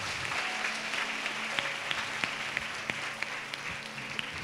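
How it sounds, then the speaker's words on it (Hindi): A church congregation claps loudly together during a fasting prayer service, a dense, steady wash of applause with sharp individual claps standing out throughout. "ताली बजाएंगे जोर से।"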